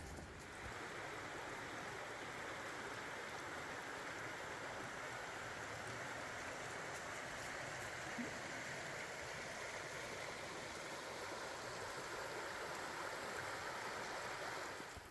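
Steady, broadband rush of creek water flowing beside a forest trail, constant and fairly close, with no voices.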